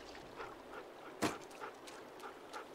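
A dog in The Walking Dead video game gives one brief whimper or whine, close and fairly faint, against a soft ambient game background. No one speaks.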